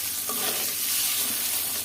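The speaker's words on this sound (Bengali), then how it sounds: "খুব সুন্দর করে ভেজে নিলাম।" Diced potatoes fry in hot oil, a close, steady crackling sizzle with a faint stir or two and no talking.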